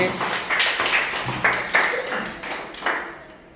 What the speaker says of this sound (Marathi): टाळ्या होता प्रियासाठी